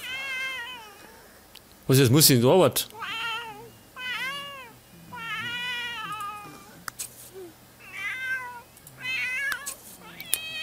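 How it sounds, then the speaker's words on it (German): Cat in The Sims 3 meowing over and over, several drawn-out, rising and falling meows spread through the clip, with a loud burst of noise near the start and someone talking over it in German. "Was treibt denn die Katze unten? Die schreit dauernd."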